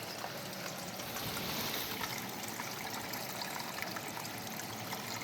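Water runs steadily through a small, recently cleared creek, a continuous broadband trickle and gurgle at close range without pause and without voices.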